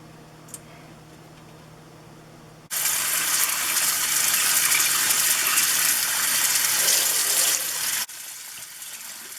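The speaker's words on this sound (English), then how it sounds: "I like to run cold water over the beauty blenders" Cold tap water gushes from a faucet over beauty blender sponges, a loud steady rush of several seconds that starts abruptly and stops just as suddenly, with quieter room sound on either side.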